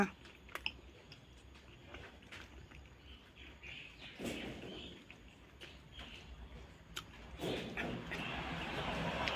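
Close, moist chewing of rice at a meal, with soft irregular crunches and smacking bites through most of the stretch, and faint bird chirps in the background.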